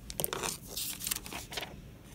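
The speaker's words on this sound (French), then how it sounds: "Je vais découper tout autour avec mes ciseaux." Scissors snip through paper in several crisp, crunchy cuts close to the ear, each snip followed by a brief pause.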